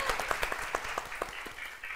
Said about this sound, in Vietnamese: Vỗ tay quý vị ơi.